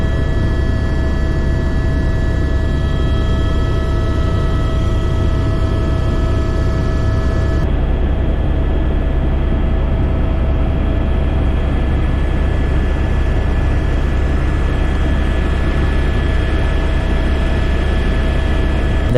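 A helicopter flies from Phata to Kedarnath, heard as a loud, steady, low engine and rotor drone from inside the cabin. The drone continues unbroken, and the tone shifts slightly partway through.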